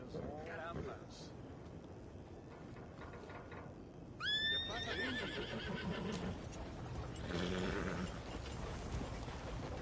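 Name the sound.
horse neighing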